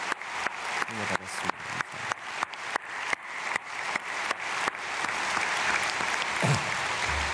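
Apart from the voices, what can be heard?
congregation applause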